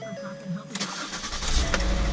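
A 2011 Ford Escape engine turns over and settles into a running idle to warm up on a cold day, with someone talking over the steady engine hum.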